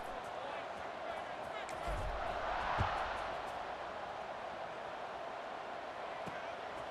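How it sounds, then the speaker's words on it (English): A stadium crowd in EA Sports College Football 26 keeps up a steady broad roar that swells slightly in the middle. A commentator talks over it. "this crowd is buzzing after that last score"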